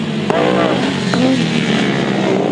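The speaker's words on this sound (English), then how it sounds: "I do want to get a listen to this engine as it goes by" A specially built grasstrack sidecar engine, a one-off similar to a Big Bang engine, roars past at a race meeting, loud and continuous with a rising-then-falling engine note.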